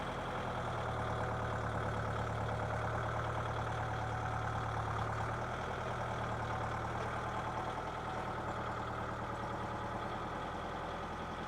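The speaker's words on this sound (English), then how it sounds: "He's pretty good on the tractor now." A tractor engine runs steadily nearby, a loud continuous low throb with a slight shift in pitch midway, no voices.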